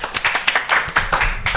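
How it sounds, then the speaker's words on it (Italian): A small group claps for their director, a handful of close, uneven hand claps in quick irregular bursts. "anche lì proporrei un applauso di gruppo per il nostro regista."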